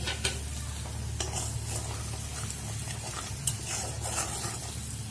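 Singara filling sautéed with chilli powder and spices in a pan, a constant close sizzle with soft stirring scrapes over a low hum, and no talk.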